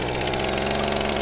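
A chainsaw sound effect in a French audio drama murder scene rattles and buzzes loudly and continuously at a steady pitch for its full length, with no voices over it.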